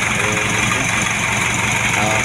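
An Isuzu 4HG1 diesel engine runs at a steady idle after injection pump timing, a close, continuous knocking rumble with a voice partly audible over it.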